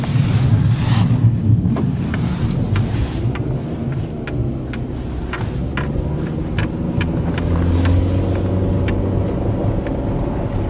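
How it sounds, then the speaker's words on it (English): A Toyota Corolla's tires spin in deep January snow, a dense rough rumble of engine and churning wheels with wind buffeting the microphone, steady and close throughout. "Nothing but spinning on the tires."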